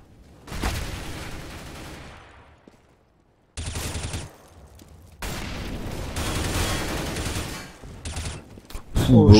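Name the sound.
gunfire in the video game Counter-Strike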